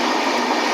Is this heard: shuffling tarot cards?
no